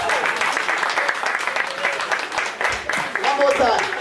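An audience at an outdoor Kwanzaa family fun day applauds in a dense, sustained wash of clapping, with voices and cheers mixed in throughout.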